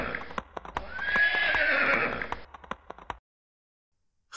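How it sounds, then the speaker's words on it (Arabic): A horse gives a long, loud whinny over scattered hoof clops, and a few more clops follow after the neigh fades. "حصان"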